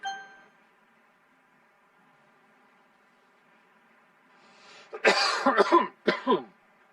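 A few harsh coughs in quick succession near the end, close and clear, after a mostly quiet stretch.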